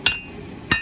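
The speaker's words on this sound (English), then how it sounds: "start at the tip and work backwards, hammering into the bevels" Two sharp hammer blows ring out on a small EDC skinner knife blade as its bevels are forged, each a bright metallic strike with a short ringing tail, separated by a brief pause.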